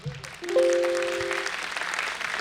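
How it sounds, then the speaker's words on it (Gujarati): An audience at a school annual function at Podar School, Upleta, breaks into a burst of clapping for a guest, a steady patter in a large hall that fades slowly, with a faint tone ringing briefly. "જોરદાર તાળીઓ થઈ જાય એમને માટે"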